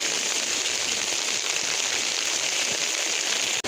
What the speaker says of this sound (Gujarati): જો વરસાદ ચાલુ પાછો થઈ ગયો છે